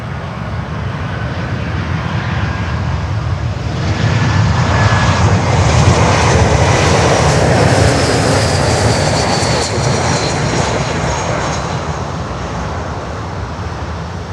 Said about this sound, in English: KLM Cargo 747 is getting ready as well.